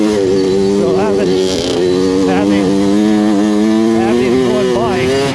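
A Kawasaki KX100 dirt bike engine drones loud and close while riding through hills, its pitch wavering up and down as the throttle rises and eases.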